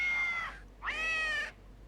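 Two cat-like leap cries from the Braid video game's mimic monster, a short falling yowl followed by a longer sustained meow-like wail, close and clear with no speech.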